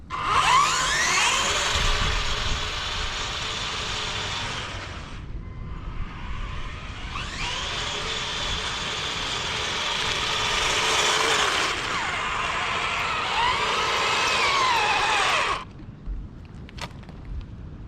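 An RC tank with a modified motor on 2S power drives past in a speed run, giving a high whining electric motor buzz with track clatter in two long bursts separated by a brief pause, fairly close and loud.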